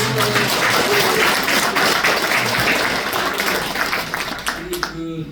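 Party members at a Democratic Party regional committee meeting in Cheongju applaud together, a dense sustained crowd clapping that runs for about four seconds before thinning out, with a voice over a loudspeaker coming in at the end.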